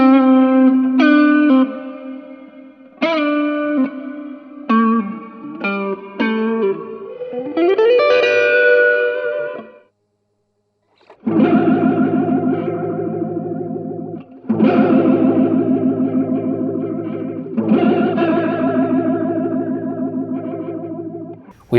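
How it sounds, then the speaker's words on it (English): Electric guitar through a TCE Vortex Mini flanger pedal as its speed knob is turned, playing a melodic run and then loud strummed chords with a sweeping, swirling whoosh, broken by a short pause. "We've got the speed knob. What that does is it controls the speed of the flanger effect."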